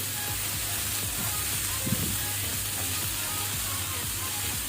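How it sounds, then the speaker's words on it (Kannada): Finely chopped vegetables sautéing in a wide pan give a steady, close sizzling hiss that carries on evenly throughout. "ಈ ರೀತಿ ಅಗಲ ಪ್ಯಾನ್ ಯೂಸ್ ಮಾಡಿದರೆ ತರಕಾರಿ ಎಲ್ಲ ಒಳ್ಳೆ ರೀತಿ ಫ್ರೈ ಆಗ್ತದೆ"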